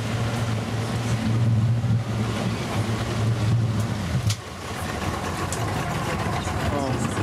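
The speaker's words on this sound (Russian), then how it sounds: "Такие у нас два движка Yamaha" A boat powered by twin 200 hp Yamaha outboard engines runs with a steady, loud low drone on a crossing from Samui to Koh Phangan, Thailand, heard from the rear seats with people talking nearby.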